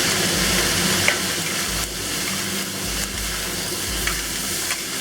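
Vegetarian Shanghai-style rice cakes sizzling steadily in a hot stir-fry pan with seasoning salt, white pepper and sesame oil, a constant close frying hiss broken by a few soft clicks as the ingredients shift.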